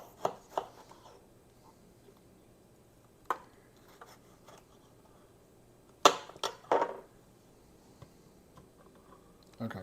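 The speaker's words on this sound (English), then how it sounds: "Again, we're going to cut the tomato." Mueller Vegetable Chopper Pro cutting a tomato, a few sharp clacks and snaps scattered across the clip, the loudest cluster near the end of the middle, mostly quiet between hits.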